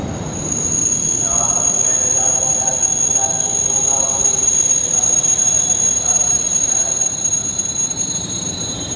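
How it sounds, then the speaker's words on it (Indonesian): The Argo Muria passenger train rumbles and rolls out steadily from Jatinegara station, Jakarta, with a sustained high metallic wheel squeal running over the heavy, continuous rail noise. "kereta api Argo Muria kembali diberangkatkan dari jalur 4 stasiun Jatinegara"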